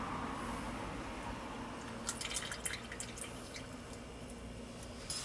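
Evaporated milk pours into a mixing bowl for pumpkin pie filling, making a soft, steady trickle with a few quiet splashy drips near the end, heard alone at low level.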